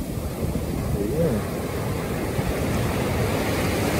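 Ocean waves roll in at Manhattan Beach as a continuous, broad wash of surf, heavily mixed with wind buffeting the microphone.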